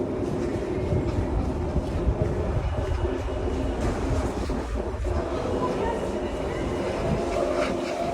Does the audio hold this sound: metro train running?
yes